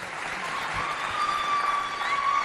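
A television audience at a Chadian high school contest applauds a singer, a steady, fairly faint wash of clapping with a faint sustained tone running through it.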